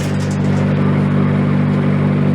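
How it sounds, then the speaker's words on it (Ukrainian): The small engine of a homemade winnowing machine runs steadily with a constant droning hum and hiss, unchanging in pitch and loudness throughout. "Запустили двигун."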